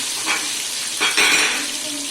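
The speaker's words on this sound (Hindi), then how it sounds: "तो इसलिए अब मैं इनमें प्याज ऐड करूँगी" Onions go into hot, overheated oil for chana pulao, producing a loud, close, hissing sizzle that swells in two surges as they hit the pan and are stirred.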